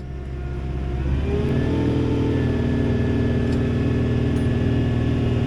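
A car engine hums steadily and loudly while driving, a constant mid-pitched drone with road rumble that swells slightly at the start and then holds even, with no talking over it.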